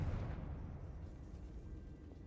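A fiery spell blast from Hogwarts Legacy, the Confringo spell, fading as a low rumbling roar that trails off into a quieter hiss.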